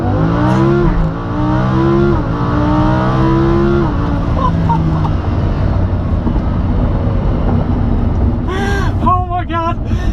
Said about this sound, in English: activate launch control so you can hear the ridiculous sound of the Huracan